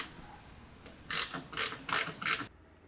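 Ratcheting clicks from a long MOUNTAIN gear ratchet wrench with a spline drive, four quick close bursts of rapid clicking separated by short pauses, crisp and alone.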